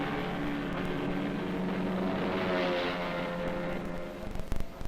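A steady, droning outboard racing boat engine runs at high revs on a buoy-marked course, moderately distant, swelling slightly before easing off, with a few rattling knocks at the end.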